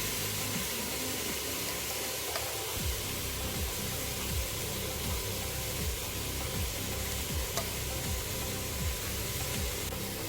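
Fried rice with capsicum, cashews, raisins and salt sizzles steadily in a pan, a constant broad hiss with faint scraping ticks underneath, no voices.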